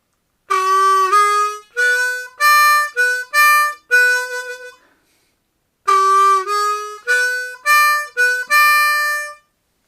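Slow harmonica riffs from a song's solo in two matching phrases, each a run of sustained reedy chords with brief gaps, separated by a second of silence.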